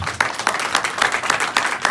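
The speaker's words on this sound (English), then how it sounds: "Can you please give them a round of applause?" An audience applauds guests from foreign embassies with a steady patter of many hands, clear and fairly close, a few louder individual claps standing out over the continuous clapping.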